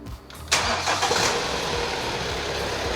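A car engine is started at the workshop with a current meter clamped to the battery, cranking briefly before catching into a loud, steady idle that continues close to the microphone.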